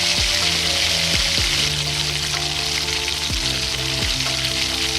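Chopped onions sizzle steadily in hot oil in a pan, a constant bright frying hiss with a few soft scrapes as they are gently sautéed; no talking.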